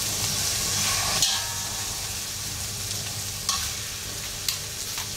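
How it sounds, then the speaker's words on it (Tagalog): Lapu-lapu fish fries in a little oil, giving off a close, steady sizzle with bursts of spattering and a few sharp clinks or scrapes. The crackle runs throughout, with no voices. "piniprito ko muna siya guys"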